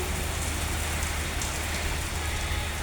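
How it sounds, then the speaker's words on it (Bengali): Heavy rain falls steadily outdoors, a dense and continuous hiss of drops hitting surfaces that stays loud and unbroken throughout, with no voices. "এত বৃষ্টি যা বলার মতো না"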